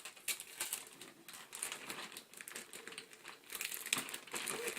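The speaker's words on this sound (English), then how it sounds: "We're going to seal it, and then we're going to tape it shut" Plastic Ziploc bag being sealed and taped shut, a run of close, quiet crinkling and rustling with small sharp tape clicks, steady throughout with no talking.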